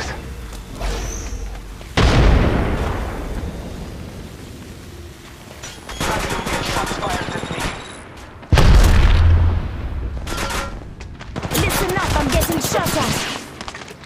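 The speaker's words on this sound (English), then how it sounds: "Thermite grenade!" Thermite grenade in Apex Legends Mobile, heavy bursts and a sustained crackling roar amid rapid gunfire and booms, loud and close, coming in several surges with brief lulls between them.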